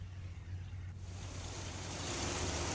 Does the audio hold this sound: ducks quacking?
no